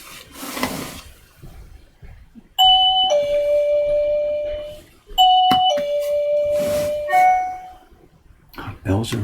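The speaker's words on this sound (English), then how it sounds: "Bells are ringing." Two clear electronic chime tones ring out one after another, each a sustained doorbell-like ding-dong, with muffled background voices before and between, inside a woodblock print shop in Asakusa, Tokyo.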